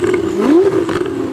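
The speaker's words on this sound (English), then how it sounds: "You can hear this very full-bodied" A Ferrari 488 GTB's titanium exhaust roars in a brief, deep rising and falling growl, loud and close.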